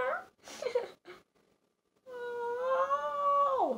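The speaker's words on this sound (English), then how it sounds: "Before Bo made a meow" A cat gives a drawn-out, wavering meow that rises and then slides downward, loud and close, following a few moments of soft talk and a short quiet gap.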